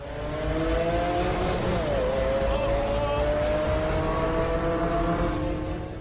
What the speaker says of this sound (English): This is how BMW E36 drives.